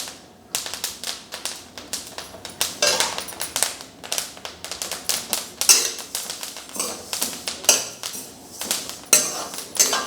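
Flax seeds roast over a high flame, giving rapid, irregular crackles and pops layered with clattering scrapes of stirring in the pan, busy and close throughout.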